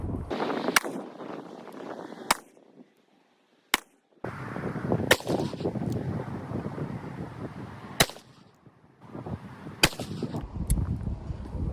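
A .44 Magnum revolver with a 4-inch barrel firing 240-grain XTP loads outdoors, several sharp, very loud single shots spaced a few seconds apart, each followed by a brief echoing tail over steady background noise.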